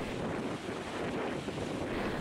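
Strong wind blows at sea off the north coast of Tuban during bad weather with high waves, as a continuous roaring rush of wind buffeting the microphone and churning surf, loud and unbroken.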